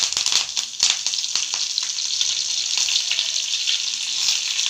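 A sprig of curry leaves sizzles and crackles loudly in hot frying oil, a steady, dense spatter that continues throughout with no voices.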